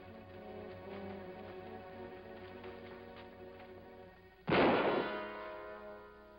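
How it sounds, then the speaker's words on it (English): A single loud gunshot bursts out near the end of a western shootout, a sharp blast with a ringing tail that fades over a couple of seconds after a stretch of quieter background sound. "Nice shooting, Joe."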